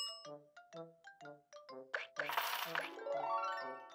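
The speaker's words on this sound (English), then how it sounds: "It's a freemium game sending me push notifications." A freemium mobile game fires off a push notification: a bright, tinkling chime sequence of quick clinks and dings rising into a shimmering flourish at moderate volume.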